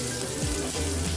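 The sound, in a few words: garlic sautéing in a small pot for kare-kare sauce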